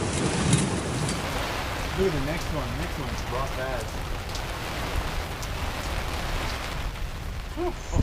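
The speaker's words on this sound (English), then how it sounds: "We did have the odd bit of rain, bit of wind." Wind-driven rain pours down in a coastal storm, a loud steady hiss of drops hammering a surface throughout, with gusty rumble underneath while people talk over it.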